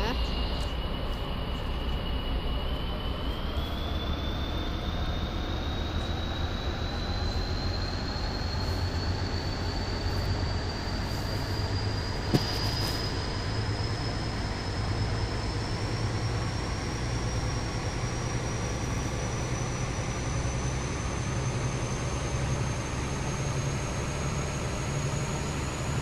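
A Roblox video game train pulls away from a station, its steady rumbling drive sound joined by a thin tone that slowly rises in pitch as it speeds up, continuous and even throughout.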